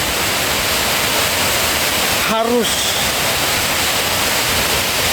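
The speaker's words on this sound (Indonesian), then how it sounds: "kita mau mandi di air terjun Efrata" Steady rushing roar of the spring-fed Efrata waterfall on Samosir island, a constant wash of falling water filling the whole clip, with a brief voice cutting in near the middle.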